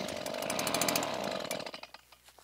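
A STIHL handheld leaf blower fires up on choke, its small two-stroke engine buzzing loudly for about a second and a half before sputtering and cutting out.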